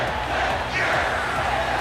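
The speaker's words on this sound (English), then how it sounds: "You can hear the crowd just on their feet." An arena crowd in the wrestling video game WWE 2K19 roars and cheers continuously for Ty Dillinger's entrance, a dense wash of voices with a commentator talking over it.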